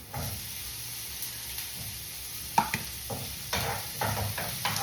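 Spam hitting a hot pan of string beans, with a sharp burst of sizzling, then stirring and scraping sounds and frying crackle that rise and fall over a steady background hiss.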